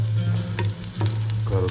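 Garlic frying in hot oil, spattering with a busy, crackling sizzle and a few louder pops and stirring scrapes over a short stretch.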